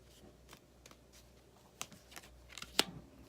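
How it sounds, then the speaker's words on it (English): Tarot cards are shuffled in soft, faint bursts of papery riffling and flicking, with a few sharper snaps near the end, recorded close in an otherwise quiet room. "one more shuffle for career"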